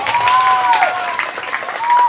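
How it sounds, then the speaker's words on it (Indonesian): Brief applause at a school flag-raising ceremony, a short burst of crowd clapping with voices and whistle-like tones mixed through it. "Berikan tepuk tangan yang meriah."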